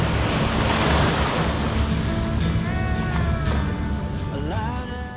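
Sea waves wash onto the shore at a beach resort in Ternate, Cavite, a loud continuous surf roar with wind buffeting the microphone and faint music fading in partway through.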